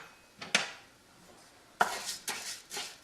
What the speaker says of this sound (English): Just stir it around until it starts to brown.